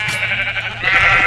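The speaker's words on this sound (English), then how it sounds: "This is my sheep. I will keep it with me." A sheep in the Minecraft video game on the Mineplex server gives a continuous, bright, buzzy bleat that swells louder toward the end, heard alone and up close.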